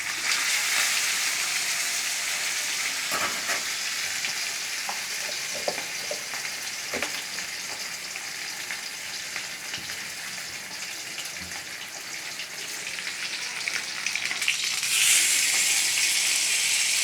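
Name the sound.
fish frying in oil in a pan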